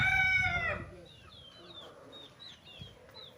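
A rooster at a game farm, where gamecocks are trained, lets out one loud, close crow that fades after a second, followed by quiet background bird chirps.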